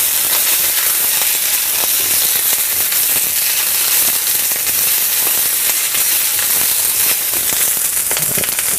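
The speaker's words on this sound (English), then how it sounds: "We're going to throw the rest of our green onion in there now." Green onions, also called scallions, sizzle in a hot pan while cooking Mongolian chicken, giving a loud, steady hiss and crackle that runs without a break under faint spitting pops.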